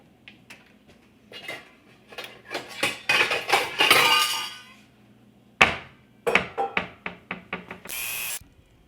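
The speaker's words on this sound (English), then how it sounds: "I'm going to go ahead and open and drain my peas" A can of sweet peas is opened and drained close by: metallic clinks and knocks, a run of scraping can-opener bursts, then liquid pouring out in a brief steady rush.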